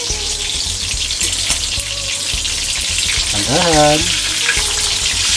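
Steady, loud sizzling of king fish frying in hot oil, continuous and close throughout, with a brief voice speaking over it midway.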